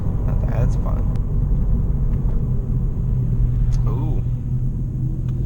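A 2017 Honda Civic Sport Hatchback with a CVT drives along, its exhaust and road noise forming a steady, close, low rumble that holds evenly throughout, with a faint voice briefly audible beneath it.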